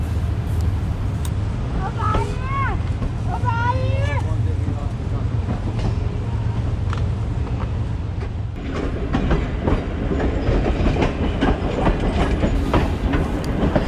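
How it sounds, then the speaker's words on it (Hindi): Fareed Express on a branch line nearing its last station, a steady rolling rumble with a wheel squeal midway and rhythmic clatter building after, all heard continuously from aboard the train. "इस वक्त ट्रेन अप्रोच बना रही है जमरानी वाह के लिए, जो कि इस ब्रांच लाइन का आखिरी स्टेशन है।"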